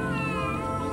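A cat meows in one sustained, loud, close wail with a drawn-out caterwauling tone, heard alone.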